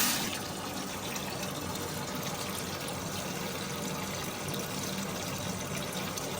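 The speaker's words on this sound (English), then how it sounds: "We'll keep adding water." Water is poured steadily into a container to load a 3D-printed PLA or PETG test part until it fails, making a continuous soft rushing, splashing hiss with no pauses.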